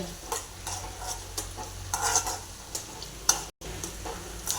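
Chopped green chilies and onions sizzle in a pan while a spoon stirs, giving scattered scraping clicks and taps over a continuous frying hiss, with one brief dropout near the end.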